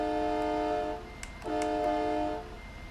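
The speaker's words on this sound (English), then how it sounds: "Like train horns." Modded train horn on a truck in American Truck Simulator, sounding as two loud sustained chord blasts separated by a brief gap, with faint clicks in between and no talking.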